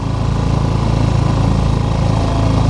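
A small outboard boat motor running steadily while out fishing in Dana Point Harbor, a loud, close, continuous engine drone with a rapid regular pulse and no talking.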